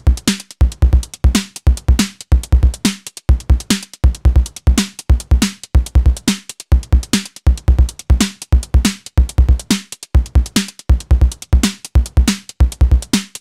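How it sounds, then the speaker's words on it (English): Breakbeat drum loop played on a Nord Drum 3P electronic drum, a syncopated two-bar pattern with displaced notes repeating steadily, punchy kicks and crisp snares and hats, loud and close with no voices. "I created some unique beat with my Nord drum"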